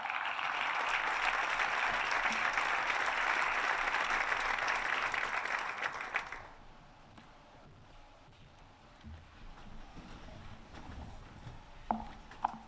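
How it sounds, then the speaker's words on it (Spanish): An audience at a cultural award gala applauds loudly and evenly for about six seconds, then the clapping stops abruptly, leaving quiet room tone with a few faint knocks and shuffles. "Le damos un fuerte aplauso."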